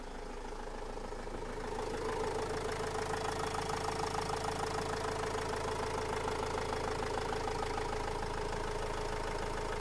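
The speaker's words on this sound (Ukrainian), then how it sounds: "Роботу мотора одразу чути, він працює просто як годинник." A 2010 Renault Trafic van's 2.5-litre diesel engine idles steadily with a low, even rumble and faint knocking rhythm, slightly louder after the first couple of seconds; no voices.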